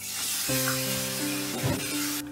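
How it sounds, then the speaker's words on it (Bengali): Ginger and green chilli paste hits hot oil for a restaurant-style mixed vegetable dish, giving a loud, steady, close sizzle with hissing spatter and faint humming tones underneath. "আদা আর কাঁচা লঙ্কাটা একটু ভাজা ভাজা হোক"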